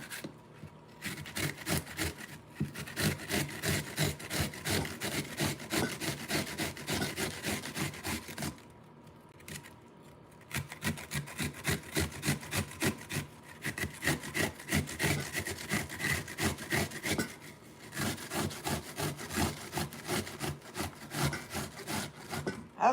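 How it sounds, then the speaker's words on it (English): Onions rasp against a kitchen grater in fast, rhythmic back-and-forth strokes, close and steady, broken by two short pauses, with no talking. "I'm grating up the onions because they cook faster."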